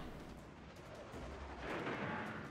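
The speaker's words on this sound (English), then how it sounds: "Now he's firing in salvos." Naval artillery salvos in the video game Midway, a loud, dense rumbling roar of heavy gunfire that swells slightly toward the end of a short stretch, with no talking over it.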